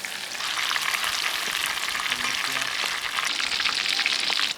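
Spring chicken pieces deep-frying in hot oil, the last batch turned over, with a loud, dense, steady sizzle that runs unbroken from start to finish.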